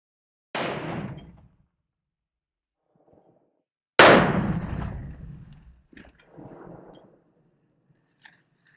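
Two sharp impulsive impacts from a .460 rifle striking an AR500 Armor backpack with built-in armor plating, the second louder with a longer decaying tail, followed by some clattering.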